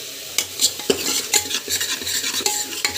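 Ground onion paste with mustard seeds and cumin fried in oil for a village-style brinjal and pea puli kuzhambu, sputtering close up while a spoon scrapes and clacks against the pan in uneven strokes.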